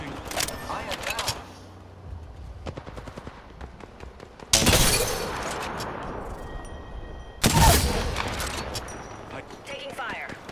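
Apex Legends gunfire comes in a scatter of sharp shots, then two loud bursts of rapid fire that ring out and fade, with quieter clicks between them.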